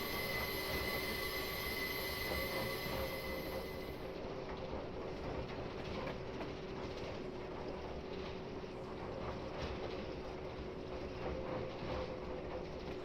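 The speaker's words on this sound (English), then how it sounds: "So at this point, I can just sit here and watch the train for a little while." Freight train running in a train simulator game on the Falmouth Branch, heard as a steady continuous rumble of wheels with prolonged high metallic wheel squeal that fades after a few seconds, no talking.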